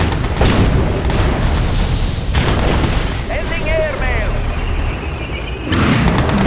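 Missile warheads explode in Yuri's Revenge, a real-time strategy game: several loud, dense booming blasts and rumbling bursts run throughout, mixed with unit voice lines and game chatter.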